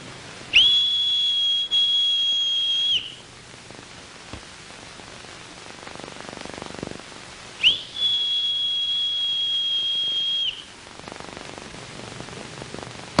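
Two long, steady high-pitched whistles, each lasting a couple of seconds and separated by a pause, over a faint hissing background.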